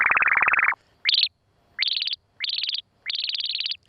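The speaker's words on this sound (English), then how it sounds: "we're going for a little chirp here" Five synthetic electronic chirps from a ring modulator effect on an SP-404 sampler, bright and tonal: a longer lower one, then four short high bursts with small gaps between.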